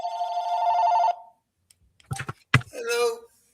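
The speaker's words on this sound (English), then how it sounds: "I hear his phone in the background." A phone rings in the background with a sustained electronic tone, followed by a few clicks and tapping sounds and a short burst of voice.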